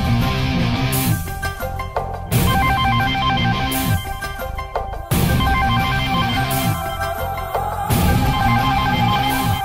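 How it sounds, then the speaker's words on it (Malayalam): A mobile phone rings loudly with a repeating melodic ringtone, its phrase cycling about every two to three seconds with no talk over it. "മൊബൈൽ അടിക്കുന്നുണ്ടല്ലോ"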